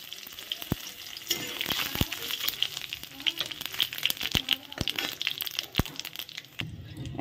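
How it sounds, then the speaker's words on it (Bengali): Dried red chillies, bay leaves and whole cumin crackle in hot oil for a Bengali dal tempering, a steady close sizzle broken by sharp pops and a few clinks of a stirring spoon. "এখানে আমি এখন ডাল ফোড়ন দিয়ে দিব। দেখো 4টে শুকনো লঙ্কা, 2টো তেজপাতা আর গোটা জিরে।"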